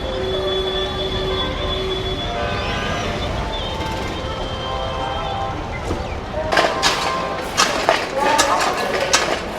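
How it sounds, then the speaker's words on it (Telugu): A passenger train rolls into Hazrat Nizamuddin railway station, a steady rumble with long metallic wheel squeals, then sharper clanks and rattles of cars passing close by near the end, under faint platform chatter. "ఇదిగోండి మన ట్రైన్ అయితే వస్తూ ఉంది"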